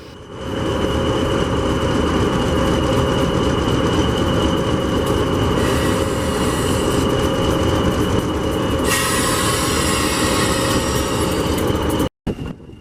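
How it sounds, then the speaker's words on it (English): A Class 59 Freightliner diesel locomotive, 59104, hauling passenger carriages on a Hampshire heritage railway, a loud, steady engine and wheel rumble held close for the whole stretch, with a thin high wheel squeal joining partway through. "D8188 diesel locomotive and 59104 Freightliner."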